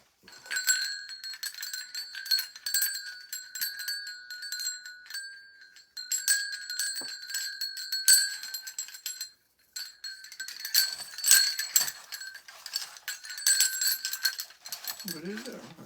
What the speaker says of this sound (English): small bells.